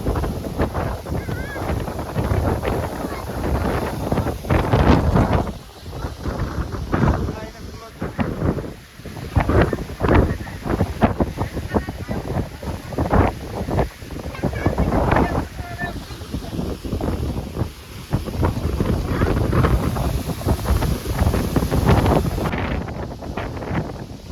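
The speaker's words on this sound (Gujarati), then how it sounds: "અહીં તો ભાઈ પવન ને વાવાઝોડું વધ્યું છે ઘટ્યું નથી" Strong stormy wind buffets the microphone in gusts during a heavy downpour in Dayal village, roaring loudly and continuously with brief lulls, while people talk over it.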